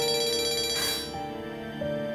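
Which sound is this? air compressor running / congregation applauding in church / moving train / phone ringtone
phone ringtone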